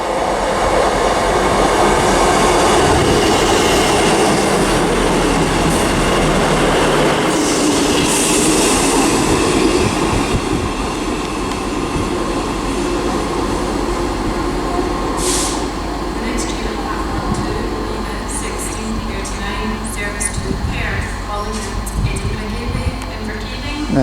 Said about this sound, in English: Oh, and also arriving is a 158 for ScotRail, which is 158732.